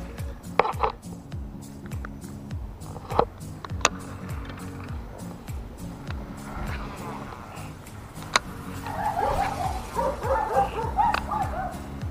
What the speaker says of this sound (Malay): menyalak-nyalak pula dia kat sini.